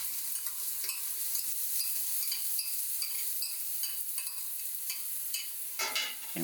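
Sweet yellow onions and minced garlic sauté in beef tallow and avocado oil in a braiser, giving a steady close sizzle with stirring scrapes and a few utensil clinks near the end.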